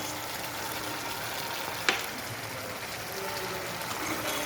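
Chicken curry with freshly added coconut milk being stirred in a pan: a steady, soft sizzle and bubbling throughout, with one sharp clink of the spoon partway through.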